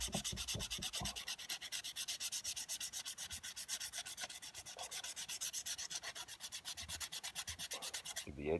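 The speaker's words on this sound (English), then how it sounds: "Give the edges a little bit of a sand too." Rhythmic, close sanding strokes scuffing the gloss off a resin coaster, a fast steady back-and-forth rasp that continues without pause and with no voices.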